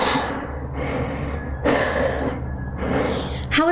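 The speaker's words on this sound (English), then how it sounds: "breathe out long" A slow, deep breath out during a child's pose stretch at the end of a home leg workout: long, airy breathing pulses, close and fairly loud, repeating across the moment with no words spoken.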